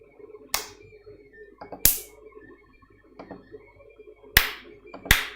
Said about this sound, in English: Why are you clapping there?